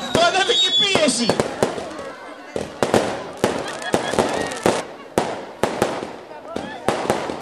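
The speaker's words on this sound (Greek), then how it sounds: "Είναι καμιά ώρα τα πυροτεχνήματα, θα μιλήσει αργότερα." Fireworks burst at the 2006 Aetolofos carnival with a rapid, irregular string of cracks and bangs. A crowd murmurs and people talk throughout.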